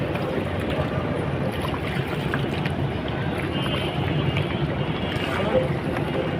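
Small boats crowd the ghat at Sadarghat on the Buriganga river, with a steady, dense wash of water, engine and crowd noise and a murmur of voices throughout.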